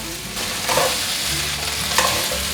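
Tomatoes softened in olive oil are stir-fried with red and yellow bell peppers in a vegan home-cooking pan, giving a steady close sizzle with repeated spatula scrapes and stirring clatter throughout.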